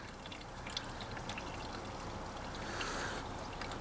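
Water is poured into the breather pipes of a car undergoing DPF-off cleaning, making a steady, quiet, continuous trickling and gurgling stream close by, with no talking over it.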